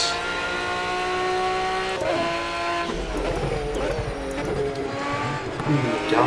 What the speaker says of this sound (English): Downshifting as well.